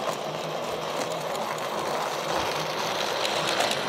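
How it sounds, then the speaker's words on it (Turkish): A toy train runs along its track with a continuous small-motor whir and faint rattling, steady and even throughout at a moderate, close distance. "Tren gidiyor."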